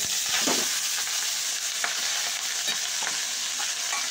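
Rice sizzles in a frying pan for cumin rice, a steady hiss of frying with a few scraping stirs spaced through it.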